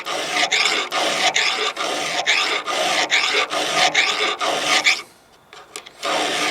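A hand file sharpens a worn chainsaw tooth in a quick, regular series of rasping strokes, close and loud, with a short pause before filing resumes.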